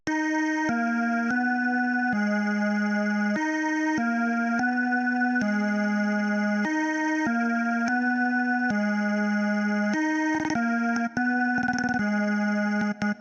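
A glitchy synth melody for a rage beat plays short, chopped notes in a bright, buzzy repeating pattern, loud and alone, with a few stuttering glitch bursts near the end.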